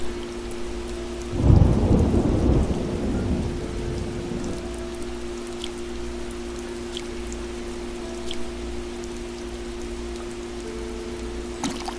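A thunderstorm with a loud, close thunderclap that rolls and fades over a few seconds, followed by steady rain hiss and scattered drips over a low hum.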